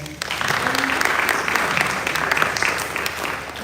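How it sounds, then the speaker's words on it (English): An audience at a film festival panel breaks into steady applause, a dense, even wash of clapping that holds for several seconds. "A round of applause for you"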